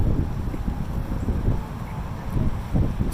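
Strong wind buffets an outdoor microphone, producing a low rumbling roar that swells in gusts throughout with no speech.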